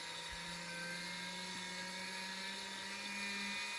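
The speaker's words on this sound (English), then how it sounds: "You probably hear the sound of the motor better than you see the rotation" A small electric motor on a rifle brass annealer auto-feeder whirs steadily with a constant high-pitched whine and a low hum, faint and unbroken throughout.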